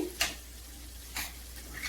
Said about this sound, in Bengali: এটা ভালো করে কষিয়ে নিয়েছি